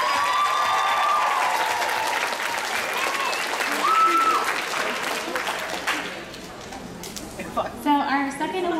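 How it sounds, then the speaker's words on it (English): Audience applause at a cosplay masquerade, a long sustained crowd ovation with some cheering that gradually thins and fades, while a host's voice and a few scattered whoops sound through the clapping. "Give him a round of applause."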